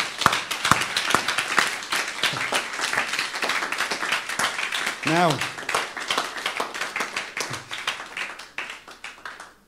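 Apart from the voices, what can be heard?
church congregation applauding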